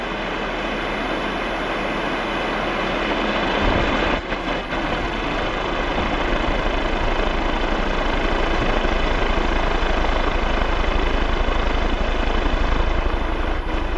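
A homemade wind generator with a slightly unbalanced rotor spins in a light wind of about 4 meters per second, giving a loud, steady whooshing whir that runs unbroken throughout, mixed with wind noise and no talking.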